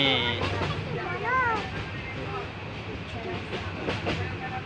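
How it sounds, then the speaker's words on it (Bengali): A passenger train runs through hilly jungle country on the Sylhet line, heard from inside the carriage as a continuous loud rumble and rattle with clicking wheels, while voices talk over it. "দুই পাহাড়ের মাঝখান দিয়ে ট্রেন যাচ্ছে চলে গেছে আমরা হচ্ছে ট্রেনের মধ্যে"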